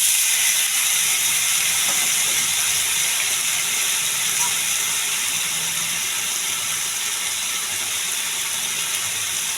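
Potatoes and green chillies sizzle steadily in a little frying oil, a dense continuous hiss holding even and close throughout without pause.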